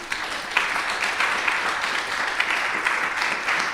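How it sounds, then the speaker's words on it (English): Audience applause at the close of a talk during an afternoon session of a conference, a steady dense patter of many hands clapping at moderate loudness for the whole stretch, with no voices over it. "applause."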